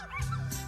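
A brief, faint high-pitched yip and whine from a small dog or puppy, lasting under a second.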